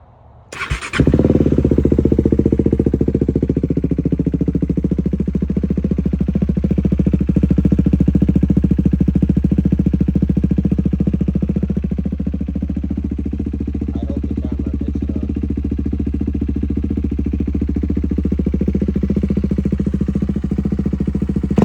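KTM 390 motorcycle with a new SC Project exhaust starting up, then idling and revving nearby, loud and throaty, with rising and falling revs over a continuous engine drone.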